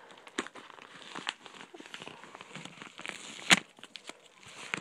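Crinkling and tearing of a package sealed with pink duct tape as someone struggles to open it by hand, a close, irregular stream of crackles and sharp rips with no speech.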